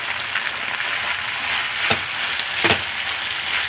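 Chilli paneer stirred and fried in a pan with coriander leaves, giving a steady close sizzle with two brief louder scraping stirs, no talking.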